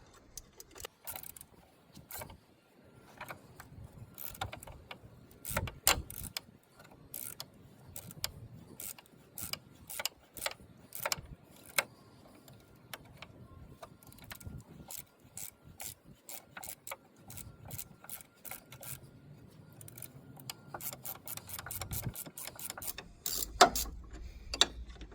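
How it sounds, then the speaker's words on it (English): A ratchet spanner undoes the top strut mount nuts on a Ford Fiesta Mk7, giving many quick, close clicking bursts separated by short pauses and light metallic handling noises. "we're going to use a ratchet spanner"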